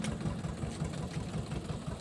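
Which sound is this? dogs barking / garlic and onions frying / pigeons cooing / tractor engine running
tractor engine running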